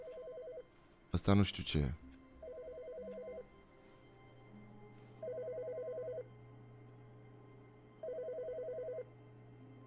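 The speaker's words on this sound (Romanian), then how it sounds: "E un telefon care sună aici." A telephone rings in repeated bursts of electronic trilling against a low steady hum, and a person speaks briefly over an early loud stretch.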